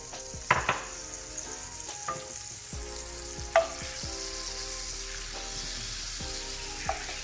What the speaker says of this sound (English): So we're going to start by putting the butter in the pan and melting it down.